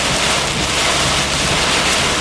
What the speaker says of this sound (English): I think I can hear some hail.